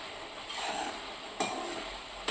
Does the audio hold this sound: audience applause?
no